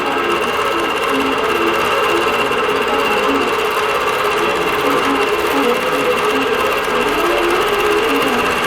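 A quilting sewing machine stitching a quilt, a loud, close, continuous mechanical whir with a fast steady stitching rhythm held throughout, no voices.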